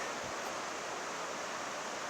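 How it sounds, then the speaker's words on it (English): A continuous hiss of the Suiattle River flowing near a Pacific Crest Trail path, an even, unbroken rush of water heard alone and fairly close. "Over here is the Suiattle River."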